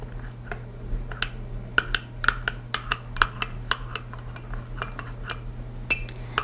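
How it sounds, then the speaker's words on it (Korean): A spoon stirring sauce and coffee in a cup gives repeated light clinks and taps at an uneven rhythm, close by, over a steady low hum, with no talking. "이렇게 소스와 커피를 잘 녹여 주시고요."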